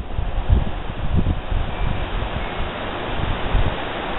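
Gusty wind buffets outdoors at an antenna tower, a continuous low rumble with a few louder thumps against the microphone, and no one speaking.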